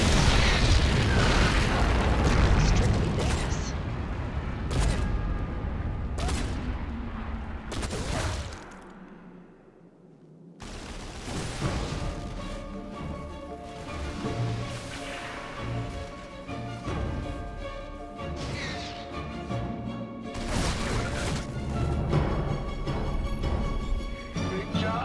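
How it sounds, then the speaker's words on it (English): Nuclear missile detonation in StarCraft II: Nova Covert Ops, a loud rumbling blast with crackling debris that drops to near silence for a moment, then a dense roar of explosions and battle noise continues with faint game voices. "Nuclear missile ready."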